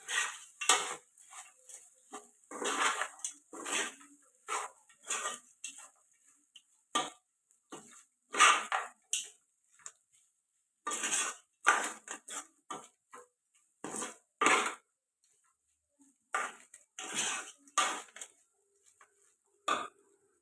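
A spoon or spatula scrapes and clanks against a pan while lemon rice, just dashed with lemon juice, is stirred; the sharp metallic clatters come in irregular bursts with brief quiet gaps between them, close and fairly soft.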